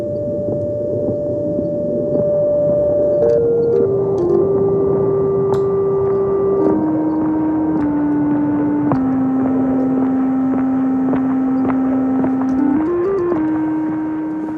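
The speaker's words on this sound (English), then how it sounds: "the noise follows the envelope settings on the Matriarch as well" A sustained Moog Matriarch synthesizer tone steps down through a series of held pitches, with a steady hissing noise layer underneath throughout that follows the envelope.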